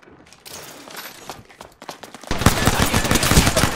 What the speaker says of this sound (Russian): Стреляют, да еще и в меня!